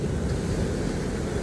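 Steady broadband roar of ocean surf at a beach, waves washing continuously with wind buffeting the microphone and no clear breaks between them.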